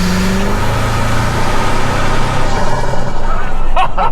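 Engine of a 2025 Toyota Tacoma TrailHunter Longbed pickup revving, a loud continuous throaty drone with rising and falling pitch, close by, ending in a brief click and rattle.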